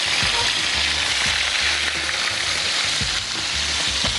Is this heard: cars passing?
no